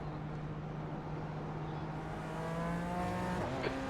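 Sports car racing engines drone steadily in iRacing at Indianapolis as GT4 and LMP3 cars run in a pack, with sustained engine tones that climb slightly as the field accelerates.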